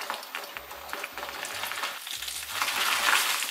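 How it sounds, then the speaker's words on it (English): Jiffy Pop popcorn sizzling on a stovetop burner, a steady close frying crackle with scattered pops that grows louder toward the end, with no voices. "There's movement. It's sizzling."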